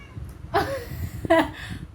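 A plump cat gives two short, close meows about a second apart, over a faint background hum.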